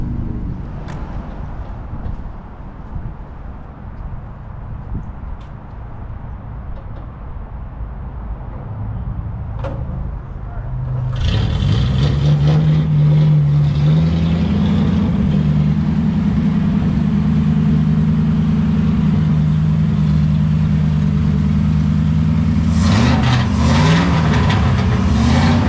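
A Duesenberg engine running with open headers, idling at first, then jumping to a loud, steady roar about halfway through that holds at high revs with a strong, sustained drone.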